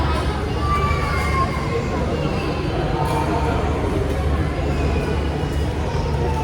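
A packed, full restaurant fills with steady crowd chatter: many overlapping voices, with children shouting now and then, forming a continuous, moderately loud babble.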